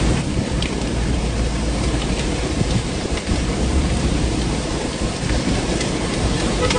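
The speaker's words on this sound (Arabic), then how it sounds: "أمطار جديدة الغزارة" Heavy rain pours steadily in a thunderstorm at Khor Fakkan in the United Arab Emirates, with rumbling thunder under a loud, unbroken roar of downpour.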